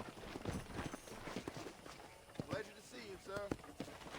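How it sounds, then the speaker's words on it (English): Horse hooves clip-clopping at a walk in Red Dead Redemption, a steady rhythmic series of thuds under a man's speech. "I picked out a fine horse for you."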